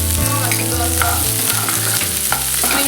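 The white part of spring onion frying in a hot pan gives a steady, close sizzle that holds evenly throughout, with faint stirring clinks and no voices.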